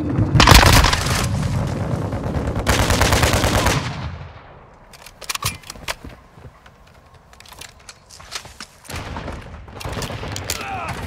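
Heavy automatic gunfire in the Call of Duty: Modern Warfare 2 video game, with loud sustained bursts up front, then scattered single shots, cracks and distant rattles over a quieter background.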